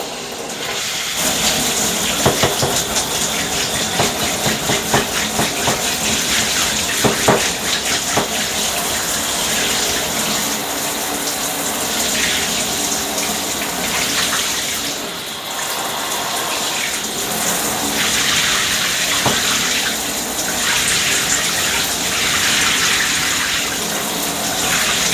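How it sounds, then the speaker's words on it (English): A shower runs steadily, its water pouring onto a silicone drain strainer in a constant hissing gush that stays loud and unbroken throughout. "Turn the shower on here."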